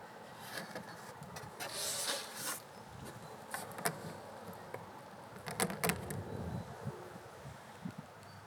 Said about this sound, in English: have a quick look at how many bees we've got in this colony as well